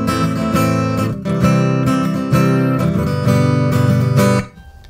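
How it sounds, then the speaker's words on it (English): Electric solid-body guitar in piezo mode played through a Two Notes Opus amp-simulator pedal: loud, full strummed chords ringing in close succession, then cut off shortly before the end, leaving a faint decay. "And you could then have the same guitar sound like this."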